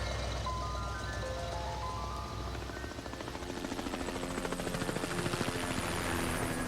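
A helicopter drones steadily overhead, its rotor chop growing louder and more pulsing toward the end, with a faint tonal melody drifting in the background.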